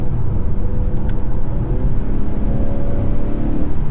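A low, steady artificial engine sound piped into a 2021 Acura TLX cabin drones and rumbles, rising slightly in pitch as if accelerating, with no talking.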